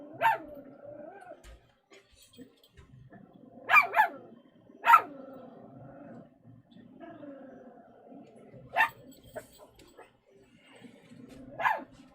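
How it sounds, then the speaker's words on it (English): A dog barks in short, separated bursts, some doubled, with quiet gaps and faint whining or growling between them. "Why are you barking at your mom, Timbit?"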